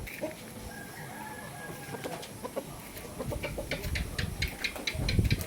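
Rhode Island chickens clucking in a backyard flock, scattered close and mid-distance clucks and soft calls repeating throughout, growing busier toward the end, with no talking.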